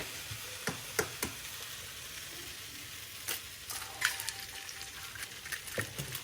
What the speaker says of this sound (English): What you see in there is bacon grease, and watch how nice this cooks an egg